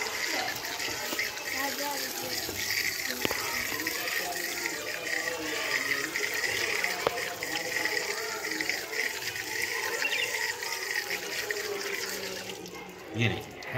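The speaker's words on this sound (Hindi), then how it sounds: "इसको हम अच्छे से हाथ धो लेंगे।" Water runs steadily from a tap as children wash their hands, a constant broadband splashing that fills the whole stretch, with a brief louder gush near the end.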